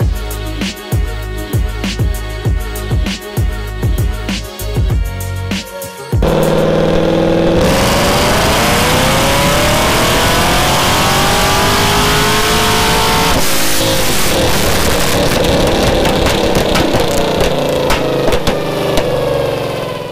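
A Chevrolet Camaro ZL1 on a dyno with a 150-shot nitrous setup runs through a full pull: choppy revving at first, then one long, very loud roar climbing through the gears, close and without voices.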